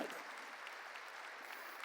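A church congregation bursts into brief, dense applause during a sermon, steady hand-clapping heard fairly faint and at a distance.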